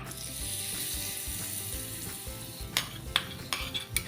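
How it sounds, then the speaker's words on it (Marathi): A hot tadka of sesame seeds, asafoetida powder and curry leaves sizzles steadily up close, followed by a run of sharp spoon-against-pan clinks and stirring near the end, with no talk. "एक टेबलस्पून तीळ हिंग पावडर पाव चमचा आणि कढीपत्ता आता गरमागरम घालायचं आहे आपल्याला तडका"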